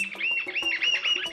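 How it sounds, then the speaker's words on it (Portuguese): A smooth woodcreeper (arapaçu liso) calls in the forest of Serra da Bocaina's national park, a rapid series of high, clear, slightly rising whistled notes repeated in a steady rhythm, close and distinct. "O arapaçu liso"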